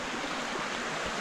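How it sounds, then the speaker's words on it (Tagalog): River water flowing steadily during a motorbike ride crossing a river near a hidden falls in Lipa City, a dense, constant rushing wash, loud and close, with no talking. "Kami po ay tumatawid ng ilog."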